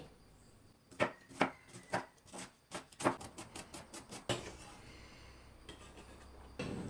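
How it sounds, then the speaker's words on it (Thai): A knife slices blanched winged beans thinly on a board, producing a quick run of sharp, crisp taps that slows and stops, followed by quiet background. "ทั่วผู้พอล่างเสร็จเราก็เอามาหั่นค่ะ หั่นบางๆ"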